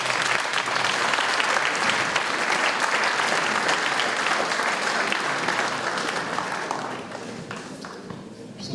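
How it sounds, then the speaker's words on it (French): Sustained audience applause at a mayor's New Year address in a hall, a dense steady wash of many clapping hands that holds for several seconds and then slowly thins toward the end. "qu'on les applaudisse également"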